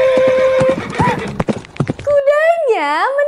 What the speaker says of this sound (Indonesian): Kudanya mendekat.